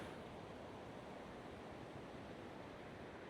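A river flowing far below a suspension bridge at Tallulah Falls, heard as a faint, steady broadband rush of water with no breaks, mixed with light wind noise and no talking.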